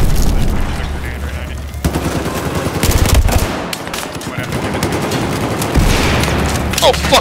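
Battlefield 4 gameplay combat in which loud, continuous automatic gunfire and dense battle noise carry on throughout, with heavy low booms from a rocket explosion, while players shout over the action.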